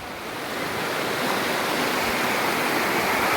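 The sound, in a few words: floodwater rushing with a strong current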